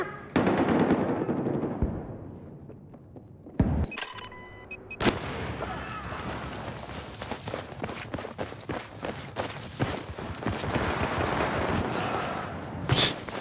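Battlefield 4 multiplayer team deathmatch on Zavod 311, with rapid bursts of automatic gunfire under heavy recoil following a short rumble and a brief burst of interface noise, plus occasional footsteps, loud and continuous.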